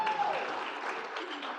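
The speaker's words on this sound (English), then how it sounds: "Let's give a round of applause to the exceptional students from the University of Guelph" An audience at a lifetime achievement award ceremony applauds University of Guelph students, a brief, moderately loud wash of steady clapping that fills the room without a break.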